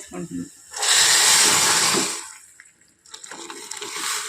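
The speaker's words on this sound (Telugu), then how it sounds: "సాంబార్ తాలింపు వేసినప్పుడు సుయ్యే మన సౌండ్ వస్తుంది" A loud hissing sizzle bursts up as boiled sambar is poured into hot tempering oil, lasting about a second before fading, with a second softer sizzle following.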